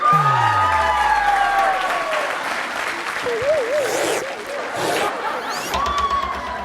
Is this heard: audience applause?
yes